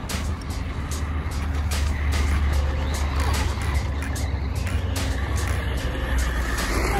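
A DEERC H16E RC car fitted with a RadioLink RC4GS V3 transmitter and gyro receiver drives steadily, its motor whine and rolling noise holding a constant level with sharp clicks and ticks throughout.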